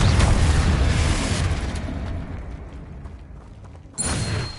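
A Confringo spell explodes in Hogwarts Legacy with a loud, close blast that trails off into a fading rumble. A second sharp burst follows near the end.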